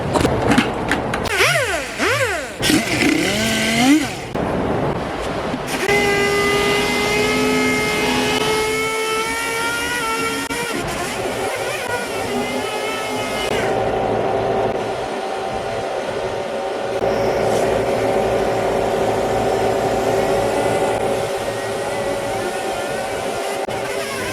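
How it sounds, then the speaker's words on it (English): A steady whooshing spray booth ventilation fan drone runs throughout, with tonal whine and some louder clattering noises at the start. "I'm going to turn my booth on to get some airflow up in here"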